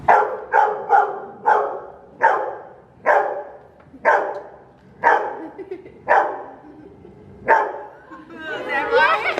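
A trained dog barks about eight times in a steady series, loud and close, as if counting out the answer to an addition problem, with children chattering at the end.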